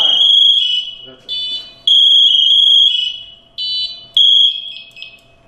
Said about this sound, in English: This is the alarm because I haven't moved. It's going to get really loud.